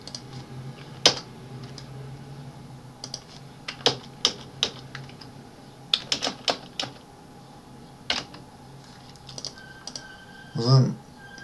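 Computer keyboard typing while entering equations in Mathcad 14: irregular, fairly close key clicks in short bursts with pauses between, a couple of sharper strikes near the end.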